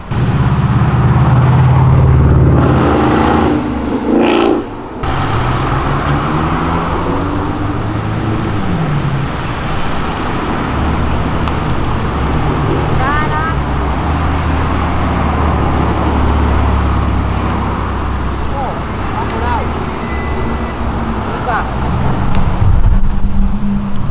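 A rare Ferrari revs and accelerates along a street, a loud rising engine roar up close at the start, then a sustained growl and traffic rumble that swells again near the end.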